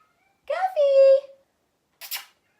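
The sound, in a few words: pet cat meowing loudly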